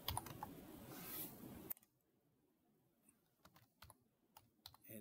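Typing on a computer keyboard to rename a Unity C# script file, with a burst of louder noise at the start and then several light, scattered key clicks, close and quiet.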